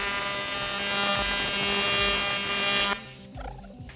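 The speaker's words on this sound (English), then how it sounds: "I'm going to go ahead and put tack welds on these panels." Tack welding on roadster body panels in a workshop: a loud, steady electric buzz of the weld arc runs for about three seconds, then cuts off abruptly, leaving only faint low thuds.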